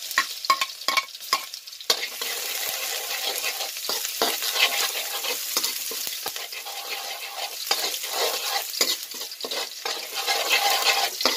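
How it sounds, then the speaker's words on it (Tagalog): Squid adobo ingredients sautéing in hot oil, a steady close sizzle and crackle with repeated scraping and stirring strokes of a utensil in the pan throughout. "Gisa na natin yung lamas natin guys."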